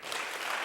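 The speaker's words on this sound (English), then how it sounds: "Let's give another round of applause for the teacher." Audience applause following a hip hop history lecture and Q&A, a steady, full wash of clapping throughout the short moment with no voices over it.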